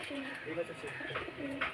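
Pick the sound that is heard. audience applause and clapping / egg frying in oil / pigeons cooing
pigeons cooing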